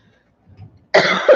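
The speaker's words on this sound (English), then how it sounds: "I just have to kind of cough it out." A single sharp cough, loud and close, preceded by a faint throat rumble.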